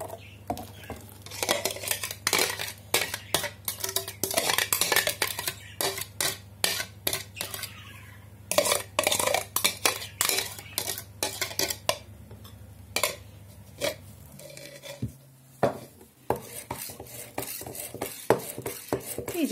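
Spinach blended in a food processor being stirred into cake batter in a mixing bowl, with repeated clinks and scrapes of a utensil against the bowl, close and fairly steady, and no talk.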